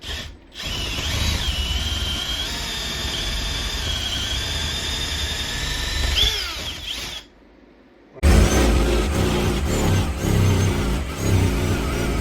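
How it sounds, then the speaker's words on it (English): A power drill bores into green hemlock wood with a loud, steady whining drone and a rising squeal. It stops briefly near the end, then a rougher burst of drilling noise follows, with no talking. "Good old green hemlock. She sure does drill nice."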